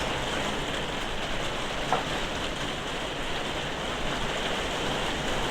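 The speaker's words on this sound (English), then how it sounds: "The rain on this roof is mental." Rain falls steadily on a roof, a dense, even hiss of drops with no clear pauses, at a moderate level and heard alone throughout.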